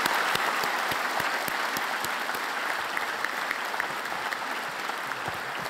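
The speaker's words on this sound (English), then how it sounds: "I would like you to give one more round of applause to an amazing group of distinguished alumni." Loud, close audience applause at a distinguished alumni awards event, dense rapid clapping sustained throughout and slowly easing off.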